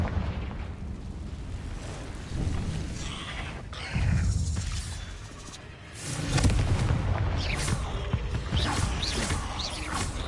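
Confringo blasting-curse explosions in the Hogwarts Legacy video game, several deep booming blasts with rumbling tails and some creaking mechanical noise between them, loud and close with no talking.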